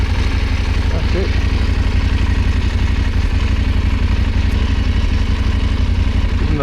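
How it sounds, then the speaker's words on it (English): A KTM 890 Adventure R motorcycle warming up at idle, its engine a loud, steady low throb with a fast, even pulse and a faint mechanical clatter, close and unbroken throughout. "Giving the bike a good warm up while I was getting dressed."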